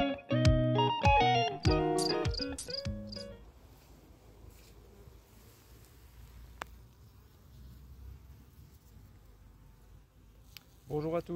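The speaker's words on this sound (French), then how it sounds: "un frelon Vespa velutina qui vient d'attraper une de mes abeilles" An Asian hornet, Vespa velutina, grips a freshly caught honeybee, giving loud, wavering buzzy bursts for the first few seconds before settling into a faint, low hum, with a brief rise again at the very end.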